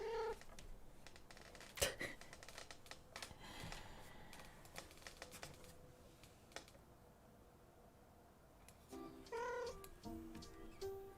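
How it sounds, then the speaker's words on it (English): House cat meowing softly a few times near the end over quiet indoor background, with faint clicks like computer keyboard typing and light rustling earlier; overall low level and close. "Yeah, kitty."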